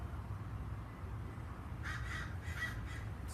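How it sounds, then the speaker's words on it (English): Several crows caw outdoors at a middle distance, a short run of harsh calls arriving in bursts over a steady low rumble of wind or traffic, with no talking. "Stupid birds."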